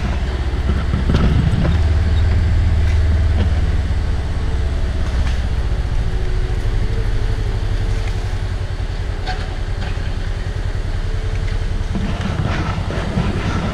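A logging tree cutter machine's engine rumbles steadily at a distance on a farm with forest work, a low continuous drone under outdoor wind noise with occasional faint knocks.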